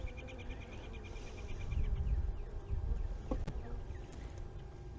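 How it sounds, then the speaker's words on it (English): Honeybees hum in an opened Layens horizontal hive, a soft, close, wavering drone with faint clicks and handling noises from the frames. "Just looks like a bunch of calm bees working."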